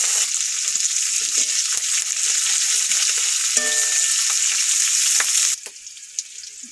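Onions and green chillies sizzle loudly in hot oil in a home kitchen, a steady close frying hiss with a few stirring scrapes, dropping off abruptly near the end.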